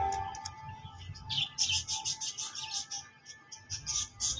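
Pigeons at a fancier's loft in Rawalpindi give off bright, repeated chirps and twitters that cluster and swell in the middle, over a faint steady hum.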